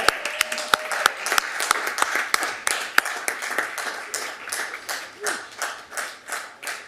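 Scattered applause after a unanimous 7-0 city council vote: sharp individual claps in a meeting chamber that thin into a slower, steadier rhythm of a few people clapping, with a brief faint voice early on.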